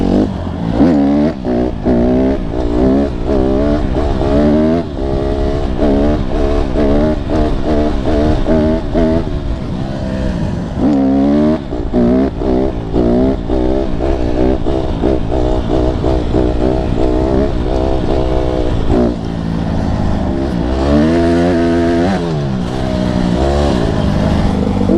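Honda CRF150RB dirt bike engine on a single-track trail, a loud close buzzing single-cylinder drone that holds steady near idle with small wobbles in pitch, running continuously without any voices.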